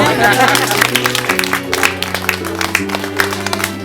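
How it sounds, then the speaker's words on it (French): Scattered clapping from guests at a religious wedding ceremony rises under sustained music with a steady bass line, the applause uneven and fairly close. "Merci à toi aussi, on peut applaudir."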